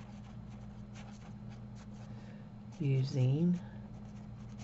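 A pen writes on a handmade Christmas card in short, quiet strokes over a steady low hum, and a voice speaks briefly partway through.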